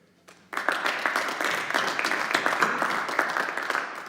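Crowd applause at a winter sports awards night, a sudden burst of many hands clapping that holds steady and dense for several seconds.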